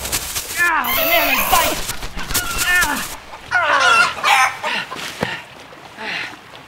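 Chickens cluck and squawk loudly up close in repeated agitated bursts, with crowing-like calls mixed in and a sharp thump near the end.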